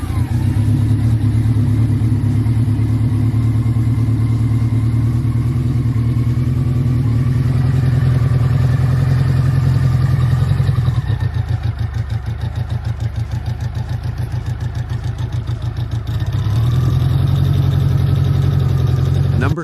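Vintage Kawasaki Z1 Classic motorcycle engine running, a close steady idle with a low throbbing rumble that briefly dips and then returns to its earlier level.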